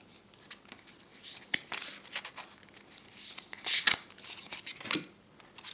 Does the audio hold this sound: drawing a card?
yes